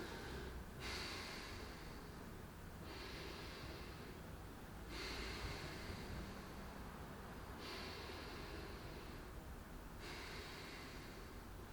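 Slow breaths in and out through the nose, five or so long airy exhalations alternating with quieter inhales, close to the microphone and soft, with no talking.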